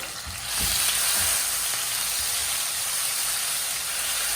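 A burst of loud, steady sizzling as garlic and ginger paste hits hot oil, continuing as a bright frying hiss.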